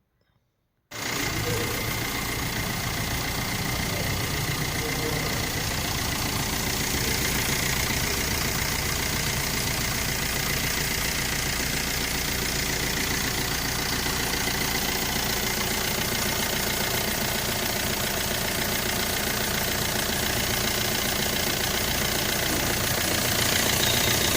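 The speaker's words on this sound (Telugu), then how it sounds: "మీకు ఇంజన్ సౌండ్ కూడా చూపిస్తాను చూసుకోవచ్చు" After a moment of silence, the diesel engine of a 2009 Maruti Ritz VDi car idles close by with a steady, even rumble that continues throughout.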